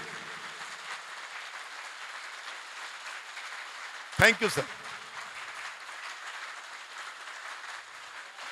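Steady crowd applause at an electrohomeopathy gathering in Delhi fills the whole stretch, with one sharp knock-like burst midway and someone briefly speaking near the end.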